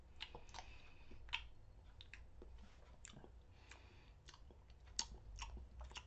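A man chews and bites into a ham and cheese sandwich, with close, moist smacking and crunchy bites recurring irregularly over a quiet background, with a couple of sharper bite peaks.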